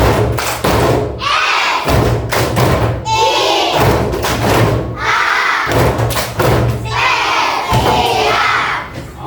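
A group performing the tepuk siap clapping routine at an ice-breaking session, with repeated bursts of loud synchronized claps and thumps followed by shouts, recurring in rhythmic cycles.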